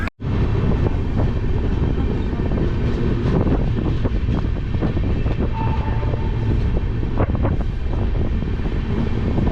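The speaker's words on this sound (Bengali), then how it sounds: "ট্রেন এখন পৌঁছে গেছে বর্ধমান স্টেশন, বর্ধমান জাংশন যেটা বলতে পারো।" Padatik Express pulling into Bardhaman station, a loud close rumble of rolling wagons and rattling wheels with wind buffeting the microphone, continuous throughout without speech.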